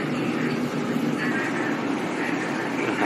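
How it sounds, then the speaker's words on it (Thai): A Bangkok Blue Line MRT train passes on the opposite track, heard from inside a carriage as a steady, fairly loud rumble and rail hiss that holds for the whole stretch without a break. "นี่ก็ฝั่งตรงข้ามก็เป็นรถไฟอีกขบวนครับกำลังจะสวน"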